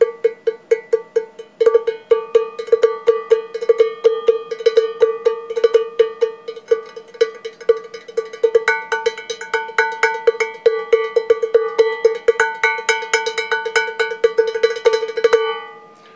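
A handheld cowbell struck with the fingers instead of sticks, playing an intricate, fast, steady rhythmic pattern of bright, close metallic clanks that continues for the whole stretch with no talking.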